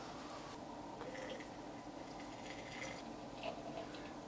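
Hot water is poured onto gum arabic powder, about 150 ml over a tablespoon, to make a watercolour paint binder: faint, close trickling and dripping with small wet ticks, quiet and steady without speech.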